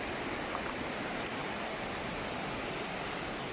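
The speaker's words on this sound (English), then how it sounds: "There's a waterfall in here." Steady, dense rush of falling water from a waterfall beside Tumpak Sewu near Goa Tetes in Lumajang, a constant close roar with no breaks or voices over its few seconds.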